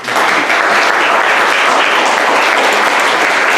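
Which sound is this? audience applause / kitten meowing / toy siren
audience applause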